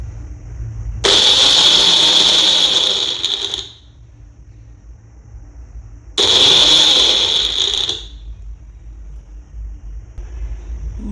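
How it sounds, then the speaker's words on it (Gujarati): An electric mixer grinder crushes garlic and cumin for a spicy chutney in two loud, high whirring bursts of about three and two seconds, separated by a quieter pause. "હવે આપણે એને ક્રશ કરી લઈશું"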